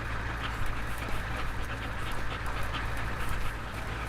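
A dog panting steadily and rhythmically up close, with quick breaths over a constant low hum.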